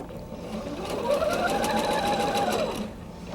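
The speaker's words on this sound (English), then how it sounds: "I'm going to sew back onto my anchor cloth." Sewing machine stitching fabric pieces onto an anchor cloth for a Bear Paw quilt block, a close, steady rapid whirring run that rises slightly then eases off after about three seconds.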